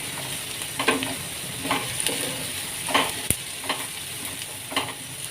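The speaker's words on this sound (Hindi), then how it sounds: "इसके साथ भी इसको थोड़ा सा मैं फ्राई कर लूँगी ताकि लहसुन का जो सा है कच्चापन दूर हो जाए" Onion with ginger garlic paste fries in a pan, giving a steady soft sizzle with rhythmic stirring scrapes about once a second and a single sharp knock, close and alone.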